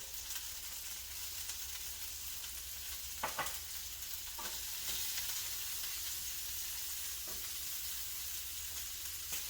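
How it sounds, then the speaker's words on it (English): A spoon stirring through sizzling olive oil in a pan, steady quiet frying hiss with a few soft scraping knocks of the spoon, no voices. "I'm just gonna use a spoon just to give it a nice stir inside the olive oil"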